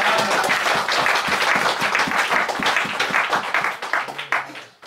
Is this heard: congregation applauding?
yes